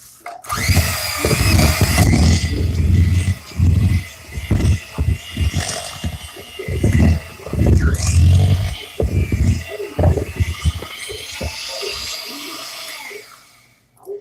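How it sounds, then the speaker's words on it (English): A handheld electric mixer whirs through a potato filling with sour cream, running in loud, close bursts that start and stop repeatedly, its motor pitch shifting as it churns. "So I'm going to mix it again."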